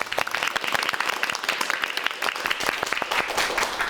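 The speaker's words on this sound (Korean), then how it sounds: "박수 부탁드릴게요." A studio audience at a Korean televised lecture on mid-career job seeking and résumé writing claps together in dense, steady applause that fills the whole few seconds close up.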